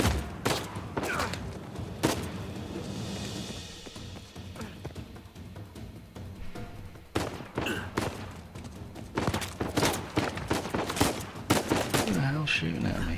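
Repeated gunfire bursts in the action video game Uncharted 4, sharp loud shots in clusters with a sustained rattle in the middle, over a dense battle ambience with faint voices.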